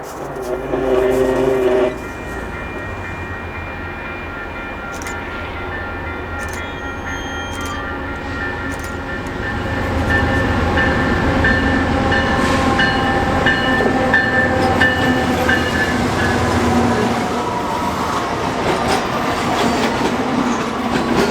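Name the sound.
westbound coal train led by three AC4400CW locomotives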